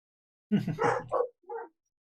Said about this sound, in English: Because the dog's barking downstairs.